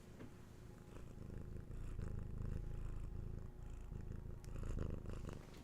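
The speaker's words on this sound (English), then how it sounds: "A healing purr for everyone." A house cat purring steadily and close, a continuous low rumbling throb that swells and eases with each breath, with faint room noise behind it.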